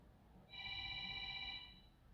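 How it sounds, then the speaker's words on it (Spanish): A telephone rings once nearby with a steady electronic tone lasting about a second, fairly faint against a quiet room. "Perdón por ese teléfono."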